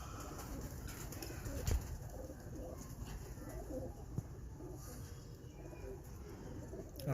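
A pigeon coos softly amid faint, steady background noise, with a couple of brief knocks; quiet and fairly distant.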